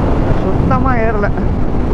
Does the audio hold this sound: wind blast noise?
yes